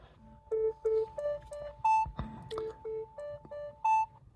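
A Galaxy Watch 5 Pro plays its water-ejection tone after water lock mode, a quick sequence of short electronic beeps at shifting pitches from a small speaker, close and fairly quiet.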